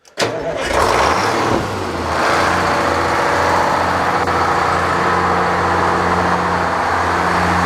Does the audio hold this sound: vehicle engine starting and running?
yes